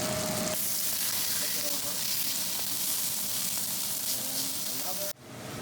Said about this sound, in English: Put it on the pan. There we go. I'll put it on one side for about 3 to 4 minutes.